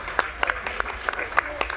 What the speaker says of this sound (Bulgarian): Аплодисменти за екипа.